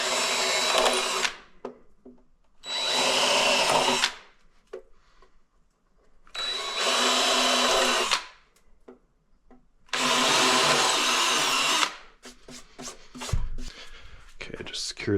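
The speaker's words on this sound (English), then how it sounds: "just secure this into place with a few screws." Power drill driving screws to mount an advanced power supply for a Starlink Gen 3 kit, running in four separate whirring bursts of a second or two each, close and loud, with quiet handling knocks in the gaps.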